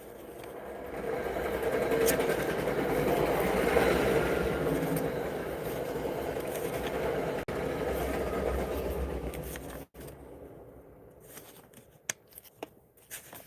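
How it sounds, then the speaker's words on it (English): A train passes at a distance, a broad rumbling, clattering roar that swells over several seconds, holds, then drops off, leaving faint clicks and rustles close by. "Here's the train."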